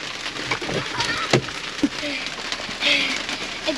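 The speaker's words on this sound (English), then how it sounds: "It just started to rain." Light rain just beginning to fall outdoors: a soft, steady hiss with scattered sharp drop taps and a few faint background chirps.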